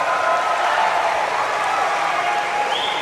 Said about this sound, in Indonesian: Tepuk tanganlah putra Indonesia.